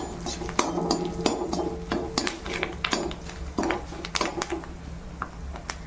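Salt and ground spices, including coriander-cumin powder, are stirred into a mixture in a bowl for sev murmura. A spoon repeatedly taps and scrapes against the bowl in an uneven rhythm, with close, light clinks and soft scraping in between.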